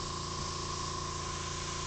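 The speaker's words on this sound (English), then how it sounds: "Make sure the airbrush is functioning correctly." An airbrush gives a steady test spray for rendering a Ferrari 275 GTB with markers, a continuous even hiss with a faint tonal hum underneath, close and unbroken.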